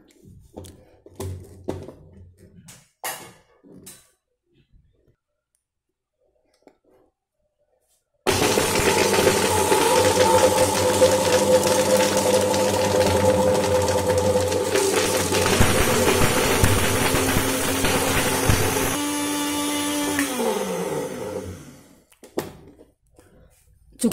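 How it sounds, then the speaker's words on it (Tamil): A HI TECH bullet blender mixer grinder grinds dry ginger, starting abruptly after quiet handling noises. It runs as a loud, steady whirring roar for about fourteen seconds, then the motor winds down with a falling pitch. "இதே போல் நம்ம அடுத்து சுக்கு அரைக்கலாம்."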